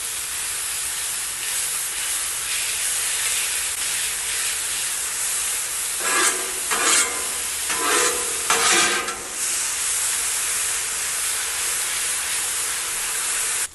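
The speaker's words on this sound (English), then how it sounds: "let's go ahead and get our bacon on. Spread that out, let that fry up a little bit" Bacon sizzles on a Blackstone griddle with a loud, steady hiss that runs throughout. Near the middle, a few bursts of scraping and spreading rise above the frying.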